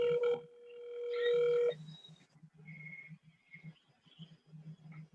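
A telephone line gives out a steady dial tone, then a short pause and a run of quick dialing beeps and a repeating low buzzing tone as a call is placed.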